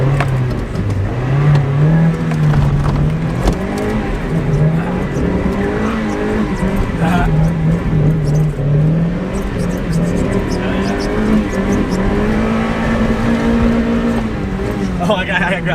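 A Miata engine revs and drones up and down steadily with rising and falling pitch while drifting in the rain, heard from inside the car, with voices talking over it.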